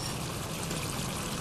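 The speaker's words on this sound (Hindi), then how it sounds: "टमाटो प्यूरी डालूँगी।" Tomato puree poured into a cooking pot for a potato and meat curry, a steady close rushing pour lasting the whole moment, with no talk.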